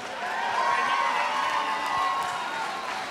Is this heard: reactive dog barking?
no